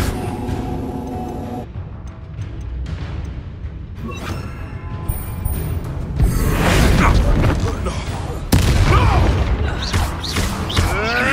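Spell blasts in Hogwarts Legacy go off as a run of booming crashes and thuds with creaking, mechanical rumble, growing louder and denser midway, with no speech over them.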